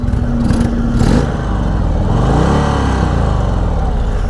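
An air-cooled Indian Sport Chief motorcycle in sport mode, its exhaust note rumbling steadily and close, with a brief rising rev near the start and an even, throaty drone after.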